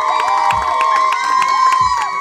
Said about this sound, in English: Everybody cheer for Cuba.